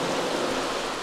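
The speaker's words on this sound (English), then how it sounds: "It's raining" Steady rainfall in The Sims 3, a continuous even hiss of drops with no breaks and no voices.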